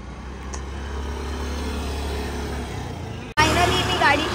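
A car driven by a learner driver, its steady engine hum and road rumble running evenly up close, then cutting abruptly into a brighter, louder burst of road and wind noise near the end.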